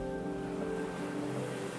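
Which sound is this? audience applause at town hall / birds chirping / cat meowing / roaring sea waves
roaring sea waves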